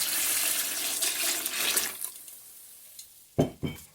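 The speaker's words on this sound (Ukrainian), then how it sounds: "виливаю ананасовий сік" Pineapple juice pouring over sliced zucchini in a bowl, a steady splashing stream that stops after about two seconds, followed by a couple of sharp knocks from the container, with no talking.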